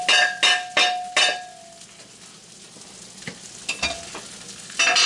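Food fries in a pan under a quiet sizzle, broken by several sharp utensil clinks and metallic scrapes early on, then softer scattered taps and a final clatter.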